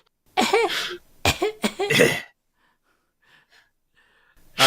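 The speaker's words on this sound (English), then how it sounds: "Just give one good cough into the mic for the fans." Several harsh, breathy coughs bursting close to the microphone on a podcast, followed by a quiet pause with faint sounds and another cough starting at the end.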